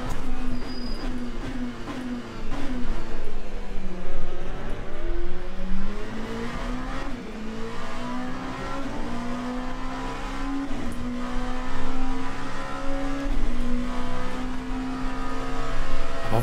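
Race car engine in the sim game Le Mans Ultimate at Sebring, droning continuously with rising and falling pitch as the car shifts and holds a steady pace, loud and close with no talk.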